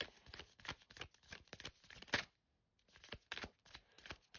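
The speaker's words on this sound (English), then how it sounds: "I need to slow down my shuffling." Oracle cards shuffled by hand, a close, quiet series of soft rapid riffles and taps broken by a short pause before the shuffling resumes.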